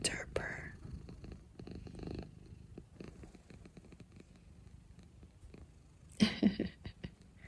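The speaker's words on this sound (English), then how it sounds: "Listen to her purr." A pet cat purrs softly and continuously at close range in a quiet home, a low steady rumble, with a brief louder burst of movement or vocal noise near the end.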